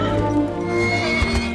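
A horse neighs loudly in a film scene, its whinny rising over the clip-clop of hooves and a rich orchestral score.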